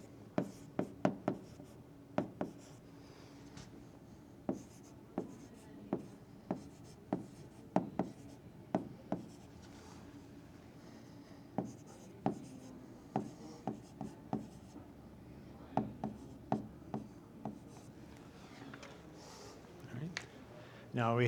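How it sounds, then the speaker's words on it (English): Pencil writing on paper at close range, a series of short scratchy strokes in irregular bursts over a quiet background, with a voice speaking in between. "You just write it in."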